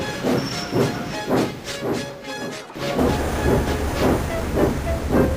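An animated steam locomotive named Gordon puffs rhythmically with steady chuffs, a sharp hiss of steam releasing partway through, then continuing to chug on at a regular pace, fairly close and loud.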